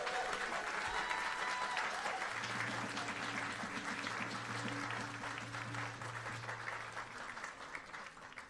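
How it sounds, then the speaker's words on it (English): An audience applauds youth performers at the opening of an Indigenous sharing and learning centre, a dense, steady wash of clapping that slowly fades, with a few voices underneath. "give them a round of applause."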